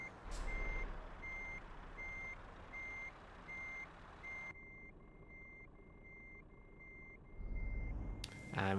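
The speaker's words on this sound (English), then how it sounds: "And we have the beeping in unison now." A truck in Euro Truck Simulator 2 sounds regular, evenly spaced reversing beeps over a low engine idle, with a louder rumble of engine and air near the end.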